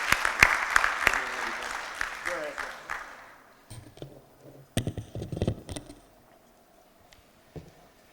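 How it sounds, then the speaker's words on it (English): An audience at a talk claps for about three seconds, a dense patter of hands that fades out, followed by scattered bumps and shuffling noises in the quieter room. "So let's give a round of applause to Mr. Gomez."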